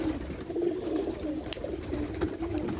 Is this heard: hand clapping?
no